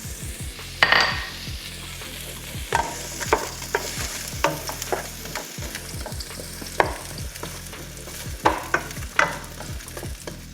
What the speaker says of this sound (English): Your onions we want to caramelize